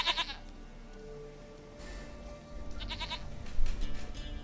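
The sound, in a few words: goat bleating in video game The Witcher 3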